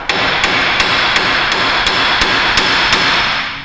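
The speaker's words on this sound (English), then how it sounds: "We'll try to give it a little tap." Hammer striking the wheel bearing hub of a Dodge Avenger, about ten sharp metallic taps at a steady rhythm, close and loud over a constant broadband background hiss.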